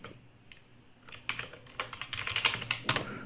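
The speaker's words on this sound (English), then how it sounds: "going to type in my email address right over here" An email address typed on a computer keyboard, starting quiet and growing into a quick run of close, crisp keystroke clicks.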